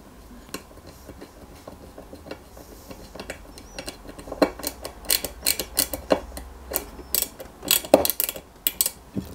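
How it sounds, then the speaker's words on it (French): Small screw driven by hand into the plastic and metal parts of a 1/8 scale Subaru Impreza WRC 2003 model kit, giving a run of close, light ticking and clicking taps that grow louder and denser toward the end. "On met une vis DM."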